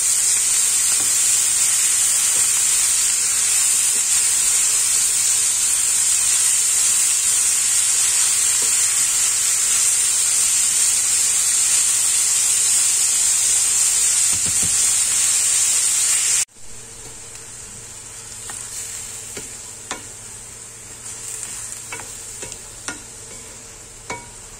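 Pork and Chinese cabbage (petchay) stir-fry in a pan, giving a loud, steady sizzle with stirring for about sixteen seconds, then a quieter simmering hiss with light scrapes and clinks.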